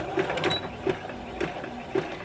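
A sewing machine stitches stretch fabric for high-waisted biker shorts in short bursts, a quiet mechanical whir broken by soft regular clicks, close up.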